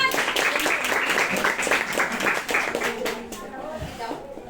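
Eighth-grade students in a classroom clap for a classmate, a brisk burst of many hands that fades out after about three seconds, with a voice heard as it dies away.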